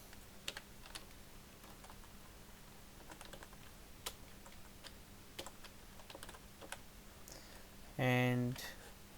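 Fingers tap out text on a computer keyboard in irregular, light clicks near the mic over a low steady hum, ending in a brief tonal beep.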